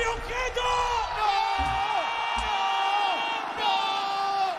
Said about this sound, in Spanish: No le griten, Teo.